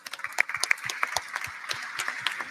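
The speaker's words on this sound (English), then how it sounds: "give a big round of applause for all of our 10 teams" Scattered hand clapping at a hackathon closing ceremony, individual claps distinct and irregular, moderately loud and sustained throughout.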